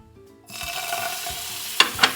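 Butter hitting a hot crepe pan: a quiet start, then a sudden steady sizzle that swells and holds, with two brief sharper clinks near the end.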